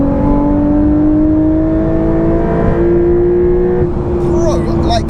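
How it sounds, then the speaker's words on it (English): A modified Porsche 911 992.2 revs hard in first gear, a loud, steady engine tone climbing in pitch for several seconds before easing, with people talking near the car. "roll on for first gear"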